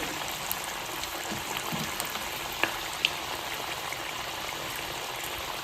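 An onion snack deep-frying in oil over a low flame makes a continuous close bubbling sizzle, with a couple of faint sharp pops and no voices.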